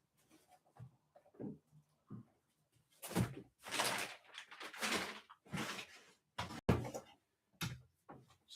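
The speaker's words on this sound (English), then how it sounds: "Just closing my door so we have some privacy." A room door is shut in a bedroom, giving a thud and a close under the speaker's nearby talk, with further knocks and bumps spread through the stretch.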